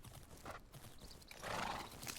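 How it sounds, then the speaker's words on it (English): Clip-clop hoofbeats of a horse galloping and then jumping in a horse-riding video game, with a whinny, rapid and fairly close, the footfalls swelling louder near the end. "Probably shouldn't tell the horse to speed up right as I'm trying to jump."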